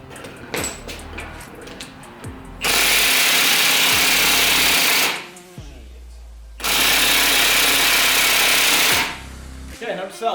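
A power tool on an E36 BMW rattles loud and steady through two long bursts, each about two and a half seconds, removing a large axle bolt. Quiet handling noises and clanks fall between and around the bursts.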